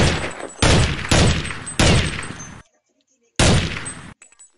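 Loud bursts of gunfire in a shooting video game, four sharp volleys in quick succession, a short silence, then another burst and a few faint trailing shots.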